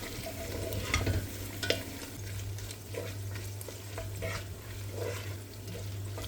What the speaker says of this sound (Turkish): fasulyenin rengi dönene kadar kavurmaya devam ediyorum